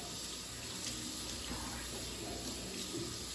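Steady tap water runs from a faucet into a sink while a raw hair closure is rinsed, a constant close splashing hiss with no talking.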